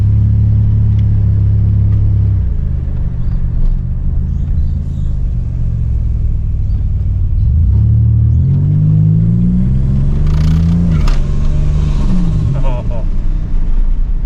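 A turbocharged Ecotec car accelerates hard in second gear, heard from inside as a loud, rising engine drone and rumble that climbs steadily in pitch, with a brief exclamation from a voice near the end.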